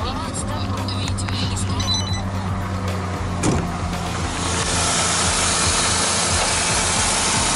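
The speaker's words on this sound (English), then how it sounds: "Engine runs smooth and cool." Ford engine idling after its EGR system was removed, a steady continuous running drone with a brief hiss partway through, close and fairly loud throughout.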